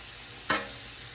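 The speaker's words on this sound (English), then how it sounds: "So I fired up my gas grill outside." Food sizzling on an outdoor gas grill: a faint, steady hiss with one brief clack partway through.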